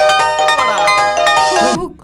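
A mobile phone ringtone plays loudly and steadily for about two seconds in a melodic tonal pattern, then cuts off abruptly near the end.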